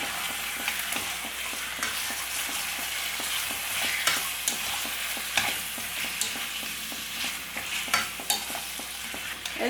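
Small washed chicken pieces fry on a high flame in an open pan, giving a continuous close sizzle broken by regular scraping clicks of stirring, with no voices.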